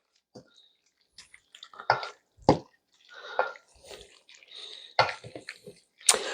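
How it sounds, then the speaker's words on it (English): A sauce is stirred into an eggplant and vegetable caponata, giving wet, squishy, irregular stirring and scraping sounds in short bursts separated by quiet gaps, close by. "We're going to mix that in to our caponata, to our eggplant and vegetables, and we're going to stir this around."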